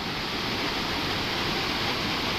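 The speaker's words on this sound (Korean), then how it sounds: "폭포야, 폭포!" A waterfall roars as a dense, constant wash of rushing water, loud and unbroken with no voices over it.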